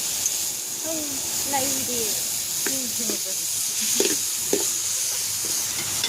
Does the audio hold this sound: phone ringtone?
no